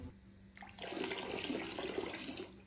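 Water pours steadily into a household air cooler during hot summer weather, a continuous splashing rush that starts after a brief quiet moment and stays fairly loud and close to the end.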